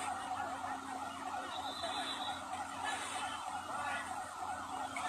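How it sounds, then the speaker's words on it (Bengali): A fire service vehicle siren wails at a blaze at a power grid station in Satkhira, faint and distant beneath a dense, steady background of crowd and engine noise. "এই যে ফায়ার সার্ভিসের কয়েকটি ইউনিট কাজ করছে।"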